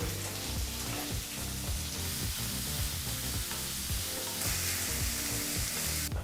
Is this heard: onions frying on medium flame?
yes